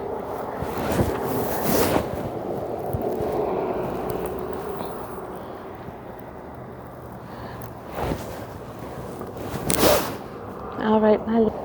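Gusty wind on a coastal walk in Eastern Passage, Dartmouth, Canada, buffets the microphone with a low roaring rumble that swells and fades, broken by a few sharp knocks.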